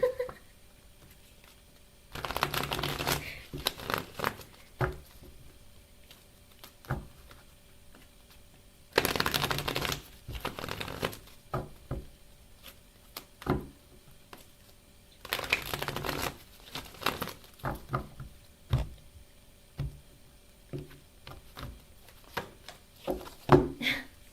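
Tarot cards are shuffled by hand in several bursts of brisk riffling and rustling, close and fairly quiet, separated by softer taps and shuffles of the deck.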